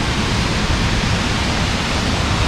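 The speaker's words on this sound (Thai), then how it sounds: "แค่น้ำตก" Tad Sae waterfall in Laos roars as a steady, dense rush of falling water, loud and close, a continuous broadband wash with no voices over it.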